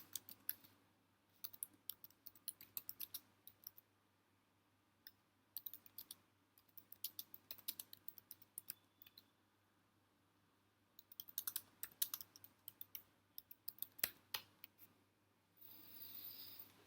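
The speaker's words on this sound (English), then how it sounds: "okay, I'm typing it." Someone types on a computer keyboard in quick bursts of clicky keystrokes separated by pauses, soft and close, with a low steady hum in the background.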